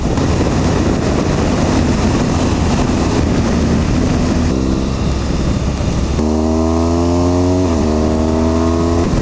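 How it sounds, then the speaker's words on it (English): A BMW R1200GS Rallye TE motorbike riding on a cold road, its engine a loud, steady drone under heavy wind roar, with the pitch climbing in stepped rises as the rider runs through the gears. "Have I mentioned that I love this bike?"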